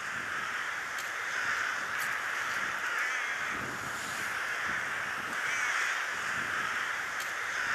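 A large flock of rooks caws continuously near a bamboo roosting grove in Ulsan, Korea, with many overlapping harsh calls at moderate distance and no talk.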